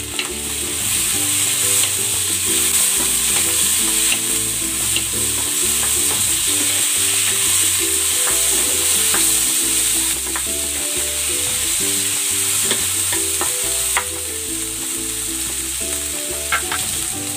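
Tomato and onion sautéing with bean sprouts in a pan, with a steady loud sizzle and occasional stirring scrapes that continue throughout, with background music and no talk.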